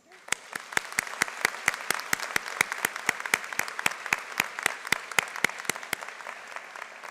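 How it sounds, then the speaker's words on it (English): Crowd applause at a college commencement ceremony, a steady patter of many hands clapping with sharp individual claps standing out, moderately distant in a large hall. "Please applause."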